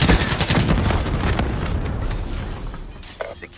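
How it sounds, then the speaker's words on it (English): A frag grenade explodes in Call of Duty: Black Ops III multiplayer, a loud booming blast with heavy low rumble that rolls out and slowly decays amid distant gunfire and game announcer voices. "Frag incoming!"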